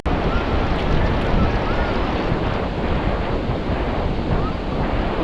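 Ocean surf washing steadily onto a beach, a dense continuous roar with wind buffeting the microphone throughout and no clear breaks between waves.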